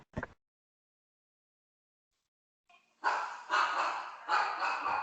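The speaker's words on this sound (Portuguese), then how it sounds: "tem um cachorro latindo" A dog barking in the background of an online academic dissertation defense, a short yelp first, then after a silent gap a run of repeated loud barks, fairly close to an open microphone.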